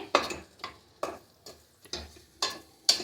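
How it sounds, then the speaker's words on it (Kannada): Fenugreek leaves frying in a pan with crushed ginger, garlic and green chilli, stirred in a steady rhythm of sharp scraping strokes about twice a second over a soft sizzle. "ಮೆಂತ್ಯ ಸೊಪ್ಪನ್ನು ಹಾಕ್ಕೊಂಡು ಫ್ರೈ ಮಾಡ್ತಾ ಇದ್ದೇನೆ"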